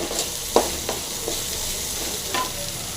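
Coconut, ginger and salt frying in a pan for a brinjal and chilli masala gravy, a close steady sizzle broken by a few sharp spoon taps and scrapes against the pan.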